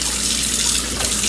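Running tap water pours steadily as a raw chicken is rinsed out under the faucet, a continuous loud splashing hiss with no speech over it.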